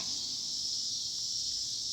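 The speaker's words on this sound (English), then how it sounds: "the cicadas, or whatever they are super, super loud" Loud, steady insect drone, likely cicadas, fills an outdoor yard after heavy rain, a continuous high buzzing with no breaks and no voices.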